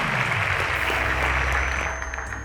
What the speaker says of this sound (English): Ladies and gentlemen, a round of applause to Alih.